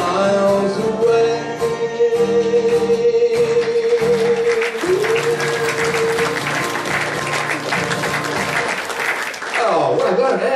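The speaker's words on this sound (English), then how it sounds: "Oh, well done, and applause for you too." Audience applause follows a song at a live concert, a sustained wash of clapping mixed with lingering musical tones and voices speaking over it.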